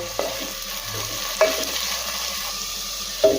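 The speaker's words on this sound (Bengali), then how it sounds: "গ্যাসের ফ্লেম কমিয়ে রেখে পেঁয়াজটাকে লাল লাল করে ভেজে নেব" Chopped onion fries in a pan over a low flame, a soft steady sizzle broken by a few sharp scrapes of a spatula stirring, with no one speaking.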